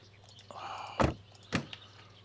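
A car door in the driving game My Summer Car shuts with two solid thunks about half a second apart, close and moderately loud over a quiet background hum.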